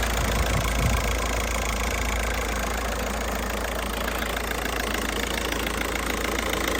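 A 2008 Volkswagen Touran 1.9 diesel engine idling steadily up close with the hood open, a rough, even clatter and rumble with no voices.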